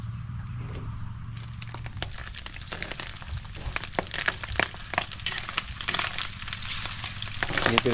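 Pork fat rendering and frying in a pan toward golden brown, a continuous crackling sizzle with dense popping spatters that grow busier and louder toward the end.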